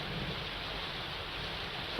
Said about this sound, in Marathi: नाशिक शहरामध्ये 3 दिवसांपासून जोरदार पाऊस सुरू आहे।